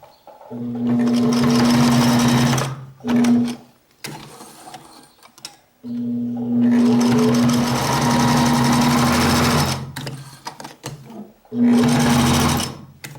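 A sewing machine stitching a child's dungarees whirs loudly and steadily in several long runs separated by short pauses, with someone speaking between bursts.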